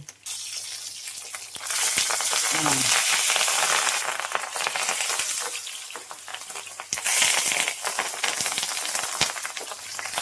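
Banana-leaf-wrapped stuffed mackerel fries in hot oil under a lid, a loud, continuous close sizzle that swells and crackles throughout, with a few brief clanks.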